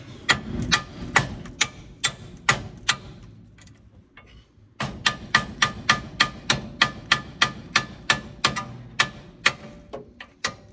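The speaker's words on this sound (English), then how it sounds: "You get a hammer and see if I can persuade it to." Hammer blows land on the front suspension of a 1950 Mercury near the brake caliper: a steady series of sharp metallic strikes with a brief pause midway, then faster, evenly spaced hits.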